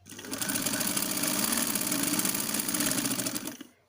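Sewing machine stitching a blouse sleeve runs in one steady, continuous whir at close range for nearly four seconds, with no talking, then stops abruptly.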